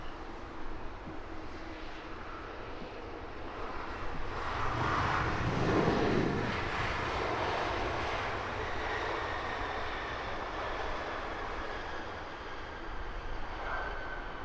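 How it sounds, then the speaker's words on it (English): A British Airways short-haul shuttle airliner from Manchester arriving at Heathrow Airport, its engine roar swelling to a peak midway and then holding as a steady broadband rumble over the airport background. "The short hauler, British Airways shuttle service from Manchester"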